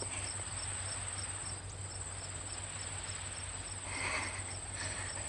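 A cricket chirps steadily in a quiet setting, with rapid, evenly spaced high chirps repeating throughout and no voices.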